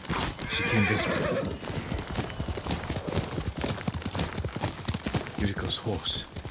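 A horse whinnies loudly up close in the video game Ghost of Tsushima while hooves clip-clop steadily underneath, with a voice speaking over the sounds.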